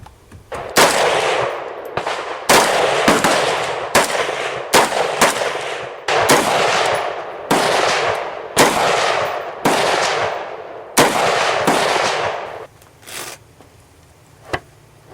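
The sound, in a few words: FR8 .308 Mauser bolt-action rifle shots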